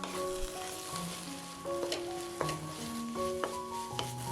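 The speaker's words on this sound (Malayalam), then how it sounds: "ആദ്യം മുട്ട സ്ക്രാമ്പിൾ ചെയ്തെടുക്കണം" Eggs being scrambled in a frying pan with a quiet, steady sizzle. Sustained tonal hums run underneath, and there are a few light taps of a utensil.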